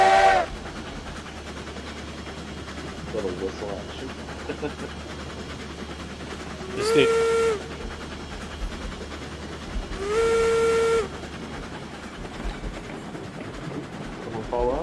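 Steam locomotive whistle in the RailRoads Online video game, two distinct blasts several seconds apart over a background hiss and chuffing, with a person talking briefly at the start.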